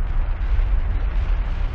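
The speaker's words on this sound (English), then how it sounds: "It's quite chaos down there. Explosions everywhere." Dense, continuous rumbling blasts of TNT going off in the Minecraft video game, a loud low roar of overlapping explosions with no pauses, heard alone.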